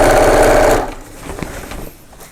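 A sewing machine stitches a 1/4 inch seam on an organiser bag in a short loud whirring burst that stops abruptly, leaving faint room noise.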